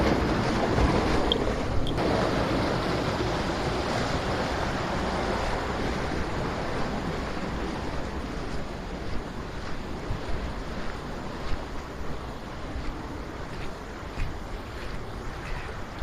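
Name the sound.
Cisurian river flowing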